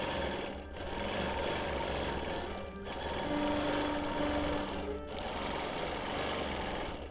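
A sewing machine free-motion quilting, custom stitching in short bursts of rapid needle chatter separated by brief pauses, close and steady, without any voices.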